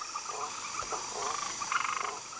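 Poison dart frogs in a rainforest croak and trill in repeated pulsing bursts, a dense chorus of rhythmic calls over a steady background hiss, with no voices.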